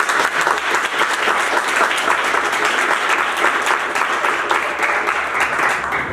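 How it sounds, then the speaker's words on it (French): A large audience at the official launch of Black History Month in Quebec City applauds loudly and steadily, dense clapping filling the hall without any pause or talk. "J'aimerais donc qu'on applaudisse très très fort pour le mois de l'histoire des Noirs ici"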